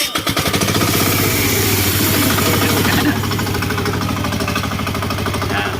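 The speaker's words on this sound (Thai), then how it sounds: "แต่แล้วเราก็มาบิดกุญแจสตาร์ทอย ่าลืมเร่งคันเร่งนะครับ" A 16 hp diesel engine on a walk-behind mower cranks and catches, then settles into a loud, rapid chugging knock that revs up close by, with no voices.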